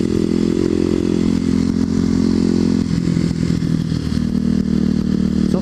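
Kawasaki KLX250sf supermoto motorcycle with spoked wheels and long-travel suspension, ridden over rough ground near old lift bridges: a steady, loud engine drone with clatter and thumps from the road throughout, no talk.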